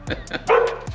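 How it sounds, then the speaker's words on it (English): The neighbor's dog next door barks in a quick series of four or five sharp, fairly close barks, with a person talking over them. "Sorry for the dog next door, he's obnoxious."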